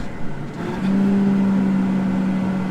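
A combine harvester runs with its PTO engaged, a low engine drone that swells and then settles into a sustained steady hum at close range.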